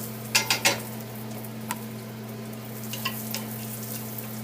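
Pecans stirred in a preheated skillet with vegetable oil: a few quick metallic scrapes and clinks at the start, then a faint sizzle with scattered light knocks over a steady low hum, close up and without speech.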